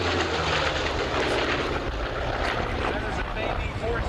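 Yak aircraft roar past at the 1996 Valiant Air Command air show, their engines producing a loud, continuous, rough drone while an announcer talks over the public address.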